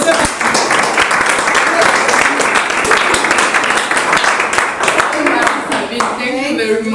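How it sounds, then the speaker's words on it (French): A talk-show audience breaks into sustained applause, many hands clapping steadily for several seconds before the clapping thins out and a voice begins speaking near the end. "On applaudit."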